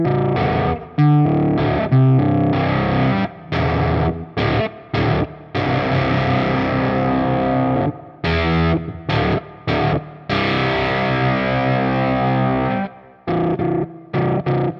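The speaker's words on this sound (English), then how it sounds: "playing multiple notes together at the max octave setting brings out these really weird metallic artifacts that sound a bit like bit crushing mixed with ring modulation" JHS Coyote fuzz pedal at its maximum octave setting, played as multi-note guitar chords that produce harsh, metallic, bit-crushed, ring-modulated distortion in loud bursts separated by abrupt cutoffs and brief silences.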